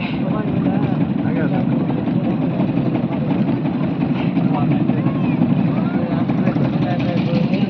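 A motorboat engine drones steadily and loudly throughout on a wetland lake while people talk over it.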